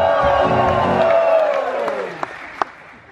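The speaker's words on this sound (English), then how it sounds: "crowd goes crazy." A crowd cheers and applauds, with loud whoops and voices over clapping, fading gradually, plus a couple of sharp claps near the end.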